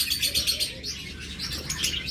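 Caged birds kept for sale, of various ages and pairs, chirp and tweet in a busy overlapping chorus, with a few soft coos mixed in, close by and steady throughout.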